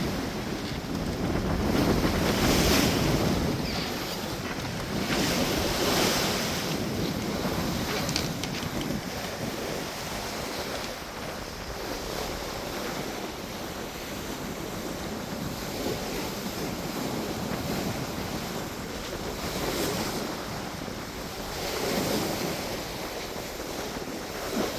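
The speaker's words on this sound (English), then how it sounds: "let me show you what this ocean's looking like this evening." Ocean waves washing past a sailboat at sea in the evening, steady broadband surf hiss with heavy wind buffeting the microphone, swelling and easing in slow surges, no voices.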